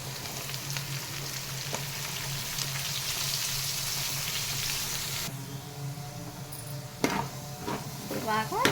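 Prawn masala frying in a pan with cucumber about to go in: a steady oily sizzle for several seconds, then quieter hissing with a few clattering utensil knocks near the end.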